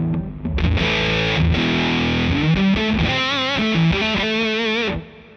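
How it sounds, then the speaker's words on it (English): Electric guitar run through a real fuzz distortion pedal with a spitty, muff-style character, playing sustained distorted chords and note bends for about five seconds before cutting off, loud and with no talking. "the pedal is a lot more spitty. It's got that sort of spitty muff sort of sound."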